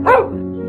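A dog barks once, a single short close bark in a children's moral story, heard alone without talking.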